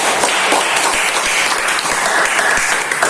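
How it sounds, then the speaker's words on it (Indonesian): Classroom applause after a group presentation in a mathematics lesson, a loud burst of many students clapping together close by, with a few sharper individual claps standing out. "tepuk tangan dulu atas presentasi dari kelompok yang dulu"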